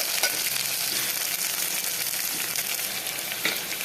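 Sprouted moth beans fry in a hot pan, giving a continuous close sizzle. Light scraping taps come through as they are stirred.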